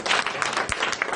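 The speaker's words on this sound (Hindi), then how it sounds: "तालियां" A brief burst of audience clapping at an honouring ceremony in Haridwar: a short, dense round of many hands applauding together.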